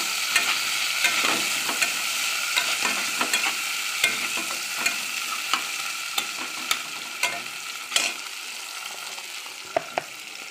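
Chopped tomato frying in oil in a pan over fried onions, a steady close sizzle broken by regular stirring clicks and scrapes of a utensil against the pan, with no voices.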